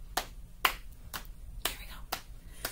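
Hands clap at a children's library story time, six sharp separate claps spaced about half a second apart, moderately loud with no voices.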